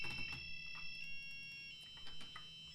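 A homemade Arduino doorbell buzzer gives a faint, steady high-pitched tone that shifts pitch midway, with light clicks and handling noise around it.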